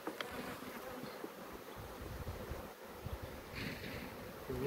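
Honeybees buzz steadily around an open hive during a routine inspection before the honey flow, a dense, continuous hum close to the microphone with light wind and handling noise, and no one speaking.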